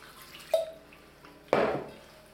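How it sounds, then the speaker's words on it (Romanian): Two splashy pours of water land in a bowl of flour for pie dough about a second apart, each trailing off quickly, with a faint kitchen clatter. "Punem apa treptat să vedem cât intră."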